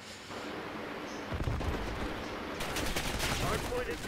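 Gunfire in a Call of Duty: Black Ops 6 multiplayer match, faint at first, then bursts of rapid shots and a louder crackling volley, heard at a distance in the game mix.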